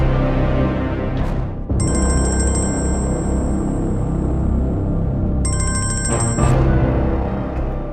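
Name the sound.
phone ringing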